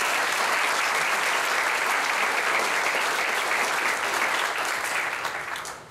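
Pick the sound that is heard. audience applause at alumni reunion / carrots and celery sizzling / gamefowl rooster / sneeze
audience applause at alumni reunion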